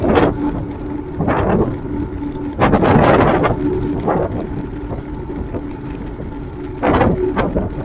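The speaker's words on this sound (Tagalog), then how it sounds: "kung maririnig nyo, lakas ng hangin. Napakalakas." Strong wind roars and buffets the microphone in loud gusts, with bursts around the middle and near the end over a steady low rumble.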